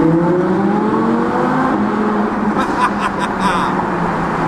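An Audi R8 V10 Plus roars through a tunnel, its exhaust note building and then popping with a quick burst of sharp crackles near the end, loud and echoing amid traffic rumble.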